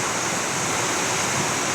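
Dense, steady broadband hiss of heavy rain pouring down in Parañaque, constant and loud with no pauses or voices.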